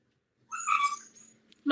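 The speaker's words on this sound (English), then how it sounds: "Mom, put the cat away." A pet cat lets out a single drawn-out meow, close and clear in a quiet room, and another sound starts abruptly just after it.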